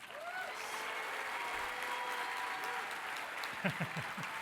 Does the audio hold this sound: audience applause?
yes